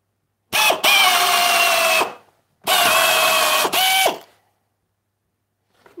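A power drill fitted with a combined drill and countersink bit whirs in two loud, close bursts of a second or two each, with brief stalls and a sharp stop at the end of each run.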